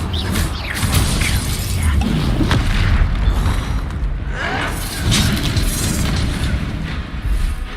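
Bombarda spell explosions in Hogwarts Legacy, a game, sounding as loud booming blasts that repeat through a dense, continuous barrage of combat noise, with a voice speaking at moments.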